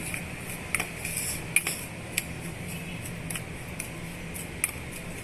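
A spoon clinks against a bowl while mirchi bajji stuffing is mixed with salt: light, scattered metallic taps over a quiet room hum.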